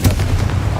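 Confringo blasting spell from Hogwarts Legacy bursts in a sharp, loud blast with a deep booming tail, brief and close, like artillery fire.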